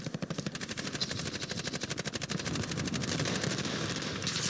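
Dense, rapid automatic gunfire from Call of Duty Warzone, a fast rattling burst of shots that runs steadily throughout, loud and continuous with no talk over it.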